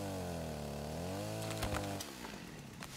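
A chainsaw in the game Rust revs with a buzzing engine whine that rises and falls, followed by a few sharp impact noises as the motor drops back to idle.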